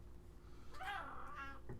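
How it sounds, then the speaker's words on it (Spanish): A cat meows once in a quiet indoor room, a clear rising-and-falling call of moderate loudness, followed by a short faint second sound, with no talk over it. "Es que tenemos aquí a una gata dormida"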